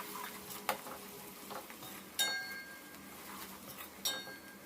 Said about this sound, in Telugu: బాగా కలుపుకుందాం.